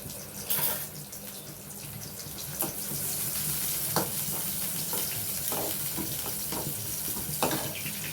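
Onions frying in hot oil, a steady close sizzle with a hissing, watery texture, broken by occasional louder crackles and stirring clicks throughout.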